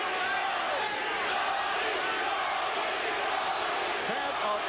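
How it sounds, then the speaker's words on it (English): Boxing arena crowd noise, a dense steady roar of many voices throughout, with hints of a rhythmic chant of a boxer's name during a bout. "Chant of Tony"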